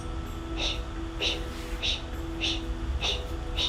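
Sharp, forceful breaths pushed out through the mouth about every half second, a steady rhythmic puffing over a low background hum.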